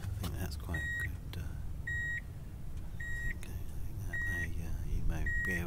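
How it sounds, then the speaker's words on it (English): A Subaru's ignition key warning chime beeps five times at an even pace of about once a second, heard clearly over a low rumble and faint background voices. "So this confounded beeping is the ignition key"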